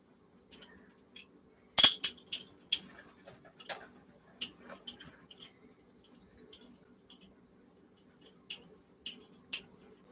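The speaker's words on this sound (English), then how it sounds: "let me get the spoon and get this stirred up" A spoon clinks and taps against the side of a glass or bowl while stirring, producing a scattered series of sharp, close ticks with one louder knock and quiet gaps between.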